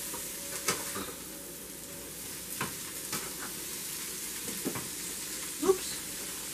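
Brussels sprouts and gnocchi simmering in a pan with salt and pepper: a continuous soft sizzle and hiss, broken by a few light scrapes and clicks of a utensil.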